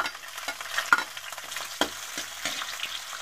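Ginger, garlic and onion sautéing in a pan, a soft continuous sizzle broken by sharp spatula scrapes and knocks at irregular intervals, close by with no talking.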